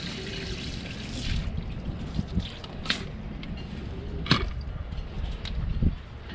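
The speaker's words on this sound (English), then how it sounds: "we've got water to our faucet" Fresh water runs from a boat faucet fed by a freshwater washdown line, a continuous close splashing flow with intermittent sharp clicks and knocks from handling nearby.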